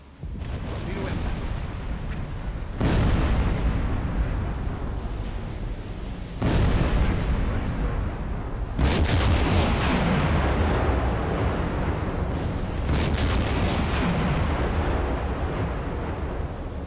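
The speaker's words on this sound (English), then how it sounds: "Huge explosions, torpedo 3 striking home" Torpedoes strike a ship in the submarine game Silent Hunter 4, several deep booming explosions that roll into long rumbling blasts, one after another, with someone talking over them.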